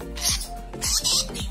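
A single bird gives a few short squeaky calls in quick succession, nearby and fairly loud over a low background hum.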